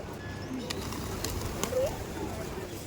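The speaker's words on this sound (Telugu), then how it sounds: "చాలా రకాలైన పక్షులు కూడా వస్తున్నాయి." Pigeons coo softly at the mosque beside Charminar in Hyderabad, faint and scattered over steady outdoor crowd noise, with people talking.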